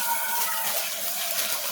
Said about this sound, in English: I'll rinse it out.